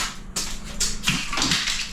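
Tile leveling clips are knocked out during a tiling job, giving a few sharp plastic taps and snaps close by with scraping in between, no talking.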